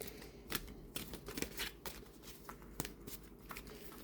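Slippery oracle cards being shuffled overhand in quick, uneven bursts of papery slaps and riffles, close and fairly quiet, with no talking.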